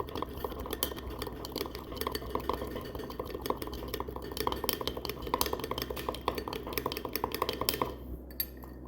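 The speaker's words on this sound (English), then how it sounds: "And you whisk that out until it gets frothy." Rapid metallic clinking and scraping of a whisk against a bowl of milk, whisked until frothy, steady and close, stopping abruptly near the end.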